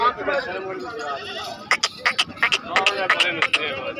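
Goats bleating at a crowded bakra mandi livestock market, several short wavering calls in quick succession over a steady murmur of voices and market bustle.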